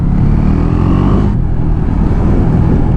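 A Husqvarna 401 Svartpilen motorcycle engine running through an exhaust silencer, a loud steady low rumble heard close while riding, with a slight drop in pitch partway through and no voices.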